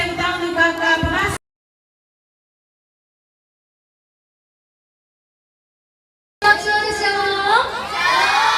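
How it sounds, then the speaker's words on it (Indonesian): At a children's storytelling event in a church Sunday school, a crowd of children cheers and shouts in two loud bursts. A long stretch of dead silence separates the bursts, and the cheering is bright and close. "Sekali lagi tepuk tangan untuk Kakak Pengasuh."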